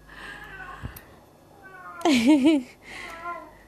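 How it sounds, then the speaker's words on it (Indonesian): A single wavering meow from a cat rises and falls close by, with quiet room noise and a faint voice around it. "Kalau kamu dengar itu suara kucing aku."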